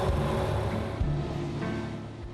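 A 1930s Bentley with 21-inch rims and special tires cruises with a low, steady engine drone blended with soft wind rush, fairly quiet and even throughout.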